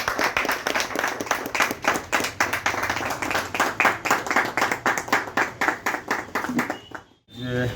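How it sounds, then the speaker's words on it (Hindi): An audience at a lucky-draw prize announcement claps in a fast, rhythmic burst of many hands for about seven seconds, with voices mixed underneath, before it breaks off abruptly. "ये पहला पुरस्कार, जोरदार तालियां"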